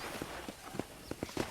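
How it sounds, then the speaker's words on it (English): Horse hooves clip-clop at a walking pace in the Red Dead Redemption video game, a moderately close, steady rhythm of soft hoofbeats on a ranch with no talk. "let's see if you can still ride a horse"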